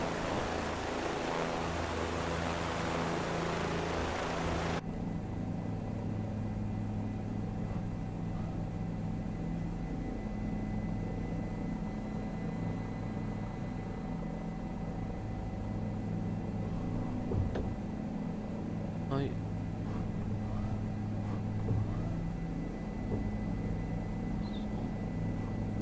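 Helicopter flying in the Microsoft Flight Simulator video game, a steady synthetic engine and rotor drone that holds evenly throughout with a brighter noisy start.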